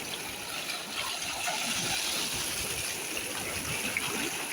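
Sea water swirling and gushing around a swimmer, a close, continuous wash of splashing and turbulence with no talk over it.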